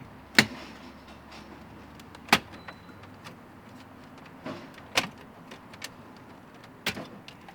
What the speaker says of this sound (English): you can use a plastic panel removal tool and just pry it up